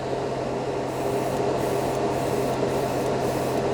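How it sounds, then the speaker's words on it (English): An airbrush blowing only air with no paint, a steady close hiss with a faint underlying hum that runs unbroken throughout, with no talk. "Let's blow this thing off. No paint, just air."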